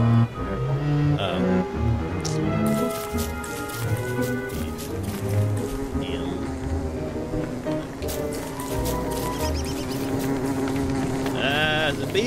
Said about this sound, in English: Yeah, don't go near the bees.